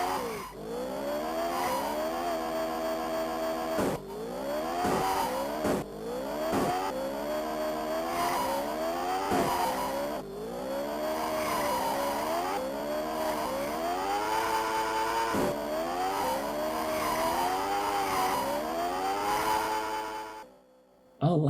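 Race cars in the Amiga video game Super Skidmarks, repeated synthetic engine whines climbing and dropping in pitch with tire squeals and skids, looping continuously before cutting out at the end, with some talking over it.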